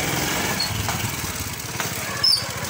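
A motorbike engine runs at a steady idle-like drone, with a continuous low rumble and a brief louder burst near the end, no talking.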